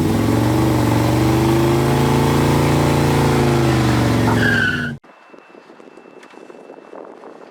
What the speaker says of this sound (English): I also thought I'd throw in a little footage of that 64 Thunderbird going away